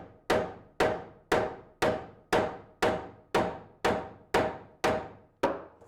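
Hammer taps on a piece being fitted into place during work on a 150-year-old farmhouse: eleven evenly spaced, sharp, ringing strikes, each decaying quickly, close and clear with no talking.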